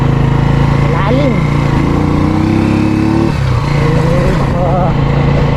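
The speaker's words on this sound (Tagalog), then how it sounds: "Oh, busit yung motor ka. Hindi ka makisama." A boat motor runs loud and close during a fishing trip for tilapia and dalag with an airgun, droning steadily with wavering pitch shifts and a brief dip in revs.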